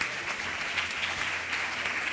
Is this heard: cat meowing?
no